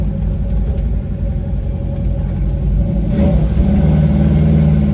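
A 1968 Chevrolet Chevelle big-block engine rumbles deeply and revs up, the throaty exhaust growing louder and fuller toward the end, with no talking.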